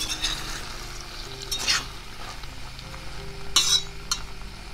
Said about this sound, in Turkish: Şöyle iyice karıştıralım. Her yerine sosumuz bulaşsın.